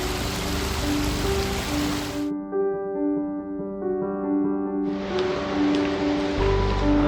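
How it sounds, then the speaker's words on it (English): A waterfall beside a glacier parking lot roars as a steady broadband rush. The high hiss drops out for a few seconds midway and then returns, with a faint tonal hum running underneath throughout. "There's a waterfall to the right"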